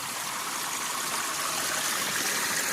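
Water runs steadily through a small channel, a close, continuous babbling trickle with a bright splashy hiss and no pauses or voices.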